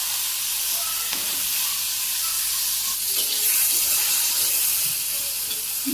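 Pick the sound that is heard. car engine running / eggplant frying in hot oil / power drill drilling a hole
eggplant frying in hot oil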